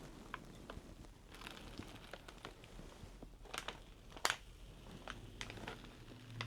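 Soft crackling and fizzing with scattered crinkly pops and a sharp hiss burst, fairly quiet and close, like a ration heater reacting with water.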